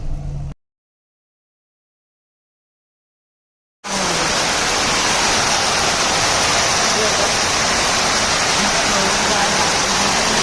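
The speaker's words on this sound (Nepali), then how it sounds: "अहिले बिहानको 5 बजिरहेको छ साथीहरू अनि पानी परिरहेको छ।" Rain falls at five in the morning around a parked truck, a dense, loud, continuous wash of noise that starts abruptly after a few seconds of silence and holds steady to the end.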